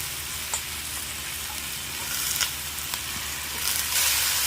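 Bottle gourd stems frying in a pan alongside potato, papaya and tomato, with a steady dense sizzle throughout and a few light stirring scrapes, close and fairly loud with no talking.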